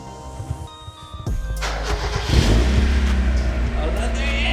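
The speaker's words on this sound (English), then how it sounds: "And then we can listen to the exhaust sounds." A 1993 Mazda Miata fitted with a Magnaflow exhaust cranks and starts, then settles into a loud, steady, throaty idle close by, with a little talking near the start.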